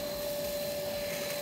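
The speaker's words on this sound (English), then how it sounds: "This is Vincent, the vacuum." A household vacuum cleaner missing a wheel runs with a steady, loud, continuous motor whine and a constant hum, unbroken and with no talking.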